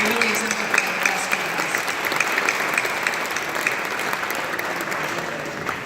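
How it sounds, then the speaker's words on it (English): Steady, dense applause from a luncheon audience for award honorees at a customer engagement conference, a broad even wash of clapping that holds at a constant level throughout. "So a huge round of applause to these folks."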